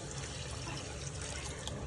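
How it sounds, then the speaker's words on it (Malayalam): Hot water pours into a pan of curry in a faint, steady trickle, close by and continuous, with no speech over it. "വെള്ളം കുറവാണെന്ന് കണ്ടാൽ കുറച്ച് ചൂടുവെള്ളം ഒഴിക്കുക"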